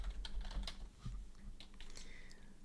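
Typing on a computer keyboard: irregular bursts of quick, close key clicks with brief pauses between, fairly quiet and without talk.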